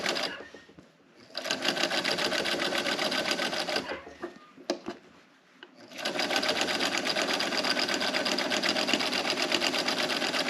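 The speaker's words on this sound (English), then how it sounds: "I'm going to back stitch right here at the beginning, and then sew all the way around very slowly" A sewing machine stitches teddy bear fabric slowly, running in a steady mechanical whir that stops twice briefly, at about one second and again around five seconds, before continuing, loud and close.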